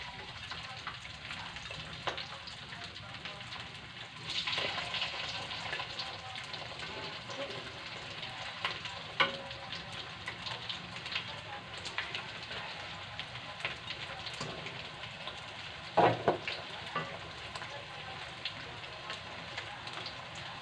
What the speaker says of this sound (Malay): Lalu kita goreng, guys, yang tempe tadi, yang tempe keripiknya.